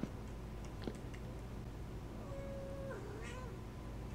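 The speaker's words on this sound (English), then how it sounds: "Yes, I hear you, kitty." A cat's meow in a game world, a brief rising-then-falling call in the middle of the stretch over steady low ambient hum, with a faint click near the start.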